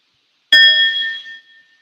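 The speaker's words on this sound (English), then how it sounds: "And I also have a bell" A single bell struck once after a brief silence, ringing out with a bright metallic tone that decays over about a second, close and clear with nothing else around it.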